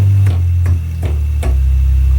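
Loud, close piano bass line stepping down a scale in low notes, each new note struck with a clear percussive attack as the pitch drops in a steady sequence.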